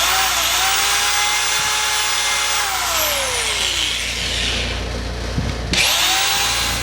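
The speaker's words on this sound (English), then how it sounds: "I'm countersinking 4 screws into it" A power drill countersinks screws into wood, its motor whining close and loud as it revs up and winds down in several sweeping runs, with a brief pause and restart near the end.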